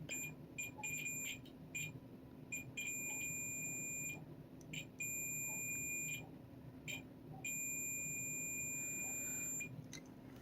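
A multimeter beeps in short, repeated high tones of varying length during a continuity check on the battery contacts of a Gameboy DMG, faint against a low hum in a quiet room.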